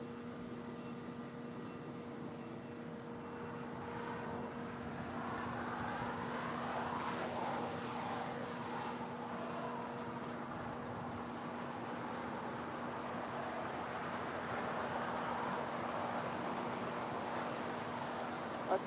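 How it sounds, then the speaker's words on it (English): An Alaska Airlines Boeing 737-900ER arrives at LAX, its steady far-off engine roar holding a constant drone with a low tonal hum and slowly rising then settling, heard alone without talk. "That is Alaska Airlines Flight 1382 coming in from Washington, Dulles."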